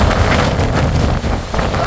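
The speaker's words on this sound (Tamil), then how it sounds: "காத்து பயங்கரமா அடிக்குது." Strong wind buffets the microphone at a hilltop temple, a continuous loud rushing roar with steady broadband noise from start to finish and no clear pauses.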